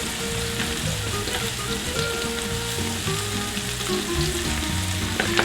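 Celery and garlic frying in a pan over medium-low heat for pasta e fagioli, a dense, steady crackling sizzle close up with faint clinks of utensils.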